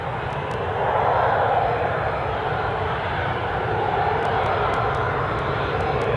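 A Ryanair jet at Newcastle airport gives off a loud, steady roar of aircraft engines that swells slightly and holds throughout, with no voices.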